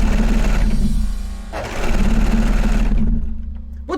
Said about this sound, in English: Lots of sewing!